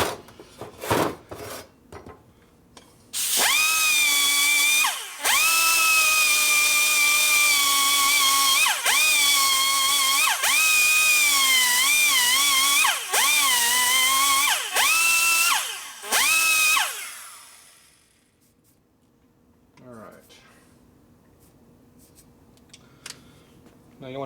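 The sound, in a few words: valve seat cutter grinding Harley Sportster cylinder head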